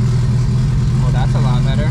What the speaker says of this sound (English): let's see if it'll idle a little better this time